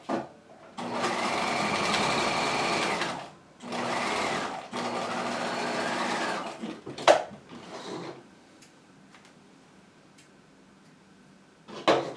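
A sewing machine stitches a horizontal dart in a jacket, running in three sustained bursts with short pauses between them, followed by a couple of clicks and faint handling at close range.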